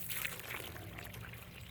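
Water pours into a freshly dug planting hole for a young tree on a dry slope, a soft continuous splashing and gurgling trickle heard up close, fairly quiet, with no talk.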